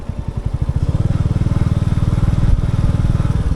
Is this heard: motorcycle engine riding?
yes